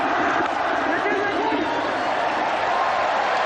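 Dense, steady roar of a large cricket crowd at Eden Park during a 1992 World Cup semi-final, a continuous wash of massed voices with no clear breaks.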